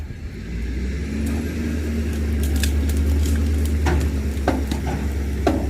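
An antique truck engine cranks over on a farmstead, producing a loud, steady low mechanical churn with a metallic whine on top and scattered clanks and clicks toward the end.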